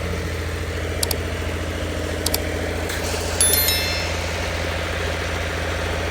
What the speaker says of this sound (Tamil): ஜென்ரேட்டர் தான்